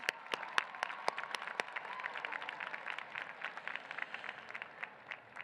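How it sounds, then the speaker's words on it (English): Graduation audience applauding at a San Francisco State commencement, with sharp individual claps near the start settling into a steady, fairly soft wash of clapping that carries on throughout. "Let's just give her a round of applause"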